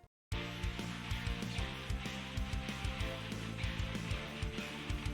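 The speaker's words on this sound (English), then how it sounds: "Throw in some strings, throw in some piano" Strings and piano play together in a bright arrangement for an anime-style opening theme, with sustained chords and steady rhythmic accents entering after a brief silence and continuing loud and full, with no voices.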